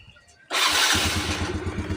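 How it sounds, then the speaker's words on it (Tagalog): After a brief quiet, a Mio Sporty scooter engine catches abruptly on a push start and settles into a loud, steady, putting idle. "So dito try natin i-push start."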